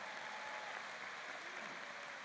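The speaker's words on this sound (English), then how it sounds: "Please give a round of applause to the color guard" At a George Mason University College of Science graduation ceremony, an audience applauds the color guard, a faint, distant, even hiss of many hands clapping that holds steady without distinct individual claps.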